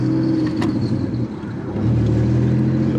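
A brand-new 2021 SE Bikes Fast Ripper motorbike engine hums steadily nearby and then rises as the rider gives it gas, the tone climbing in a short rev toward the end.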